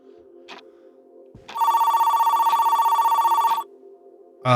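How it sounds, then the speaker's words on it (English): A telephone rings in one long electronic trill of about two seconds, loud and close, with quiet background hum before and after. "Before I answer that phone call."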